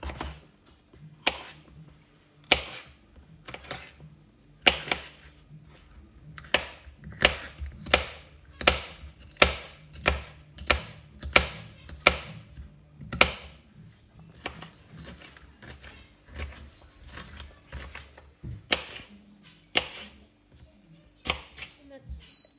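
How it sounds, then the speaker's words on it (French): A kitchen knife chops cleaned bell peppers into small cubes on a board, giving a series of sharp, close taps, quick bursts then slower irregular strokes, with quiet pauses between and no talking. "J'ai nettoyé et vidé mes poivrons et pareil, je vais les découper en petits carrés."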